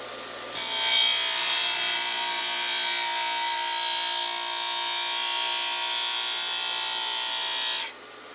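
A buffing machine motor runs counterclockwise at a forge, starting abruptly and holding a steady, loud, bright whine for about seven seconds before cutting off, close up with no talk.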